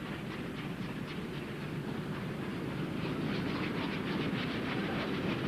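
A Baldwin steam locomotive hauling a train on rails in Argentina, heard as a steady, loud rolling rumble and hiss of wheels and cars that continues without a break.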